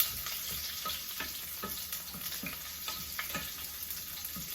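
Garlic and onion sauté in hot oil in a pan, giving a soft continuous sizzle with a series of light scraping stirs, close but fairly quiet.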